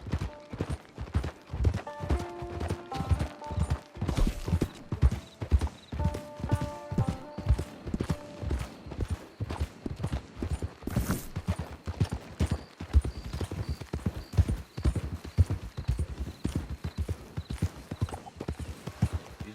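Horse hooves clip-clop steadily and close in the Red Dead Redemption 2 video game, a brisk repeating rhythm running throughout with faint background tones and no speech.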